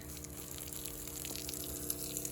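Water from a fire and rescue truck's tank sprays steadily onto a dirt and rock mix at a washed-out creek crossing, a continuous close hiss and gush with no pauses.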